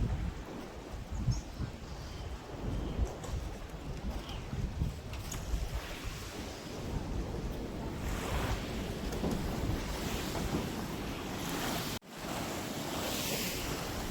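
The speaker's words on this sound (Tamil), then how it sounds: "பயங்கரமாக இருக்குங்க அலையோட வேகங்க பாருங்கள், செம்ம ஃபோர்ஸாக இருக்கு அலை." Powerful ocean waves crashing onto a beach in the Seychelles, a steady loud surf roar with surging breakers and gusty wind buffeting the microphone, no voices heard.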